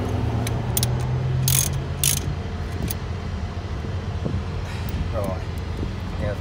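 A ratchet tightening alternator bolts on a Holden VY Commodore, a few sharp bursts of clicking near the start, then quieter handling sounds under a low steady background hum.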